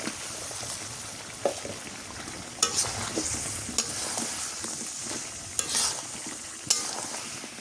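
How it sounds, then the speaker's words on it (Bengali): Meat and pointed gourd stir-frying in a pan, a steady close sizzle broken by several sharp scraping strokes of a spatula against the metal, with no voices. "পুতুল দিয়ে আর ভালো করে কষাই।"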